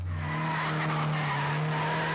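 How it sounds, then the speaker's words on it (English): A drift car slides sideways around a practice-track corner, its rear tires skidding in a loud, sustained squeal over a steady engine drone, heard close and without talk. "Sliding the car around corners"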